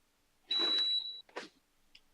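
A single high electronic beep lasting under a second marks the end of a story read aloud on a podcast, followed by a brief soft rustle.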